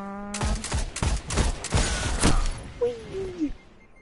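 Rapid bursts of gunfire from the video game Destiny in a rumble match, several sharp shots in quick succession for about two seconds, followed by a rising and falling electronic whine as the shooting stops.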